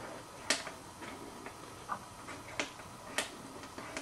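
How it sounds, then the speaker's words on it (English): Quiet footswitches on an LF+ Pro+ MIDI controller being pressed to switch presets, giving several soft, muted taps spread irregularly over a few seconds against faint background hiss, with no sharp tactile click. "you can see how quiet they are as you're switching presets"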